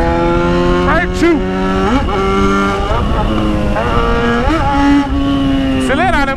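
A Yamaha XJ6 motorcycle accelerating through an alley, its engine revving up and down repeatedly in rising and falling sweeps, loud and close, with the engine note dominating throughout.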